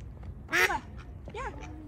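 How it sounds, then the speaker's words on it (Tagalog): Ducks quack in two bursts, a loud raspy cluster of calls followed by a softer second round, over low background noise. "Ayan na yung mga pato natin."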